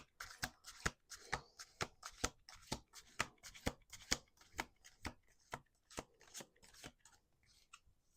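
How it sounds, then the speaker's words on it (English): Playing cards are riffled and bridged repeatedly, a quick run of sharp flutters and taps in an uneven rhythm, close and clear. "Last shuffle."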